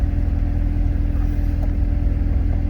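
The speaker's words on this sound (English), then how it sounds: "It raised the RPMs up." A Jeep engine raised to about 1200 RPM by a scan tool, a steady close low rumble holding an even raised idle for a few seconds.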